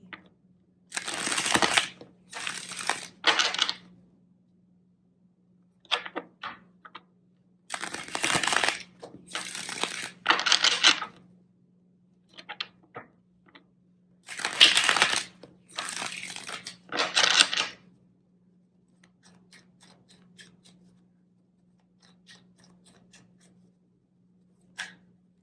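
Tarot cards shuffled by hand during a soulmate and twin flame reading, coming in several bursts of crisp riffling and flicking with short pauses between, fairly close, over a steady low hum.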